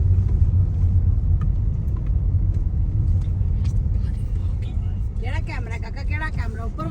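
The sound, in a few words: car driving in to park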